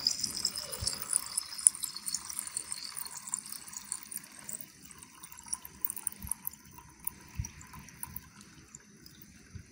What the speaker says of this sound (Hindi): सबसे पहले हम अपने राइस में से पानी निकाल लेंगे।